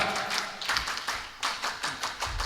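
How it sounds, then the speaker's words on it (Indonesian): Scout rhythmic clapping performed by a group in a repeated patterned beat, several sharp claps in quick succession, loud and close. "Tepuk pramuka."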